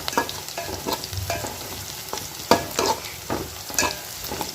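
Okra and cowpeas sauté in a pan for a tamarind curry, giving a steady sizzle broken by a string of sharp stirring scrapes and clatters, close and fairly loud, with no voices.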